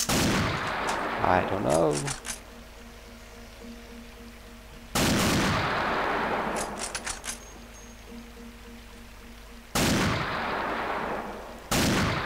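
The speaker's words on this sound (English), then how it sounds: "we can shoot them in the back with sniper rifles" Sniper rifle shots in a co-op game of Unreal Infiltration: four loud, booming cracks at irregular intervals, each followed by a lingering tail, with a brief spoken remark in between.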